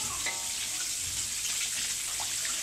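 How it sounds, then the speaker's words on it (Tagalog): Stuffed milkfish (relyenong bangus) frying in plenty of oil, a steady close hiss and crackle of sizzling oil running without a break. "Kailangan niya pagka kayo magpiprito nito, kailangan maraming mantika."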